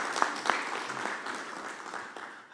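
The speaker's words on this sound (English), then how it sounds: "Let's have a round of applause." Conference audience applauding after a speaker's presentation on domestic resource mobilization and governance, a moderate steady patter of many hands with a few sharper claps near the start, fading out over a couple of seconds.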